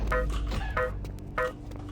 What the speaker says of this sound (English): it's supposed to make a sound like this every time you hit a trigger